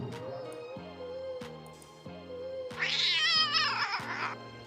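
A cat meows as a sound effect, one drawn-out, wavering cry that rises loud and close, set over a soft background of repeating music-like tones.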